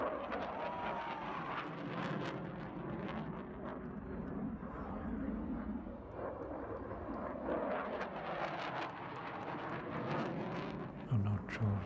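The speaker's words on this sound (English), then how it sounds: "I think that's the Eurofighter. It's amazing to see this fly in person." A Eurofighter jet flies past at the Aero India air show in Bengaluru, its engine a broad, sustained roar that swells and fades at a distance under crowd noise and nearby talking.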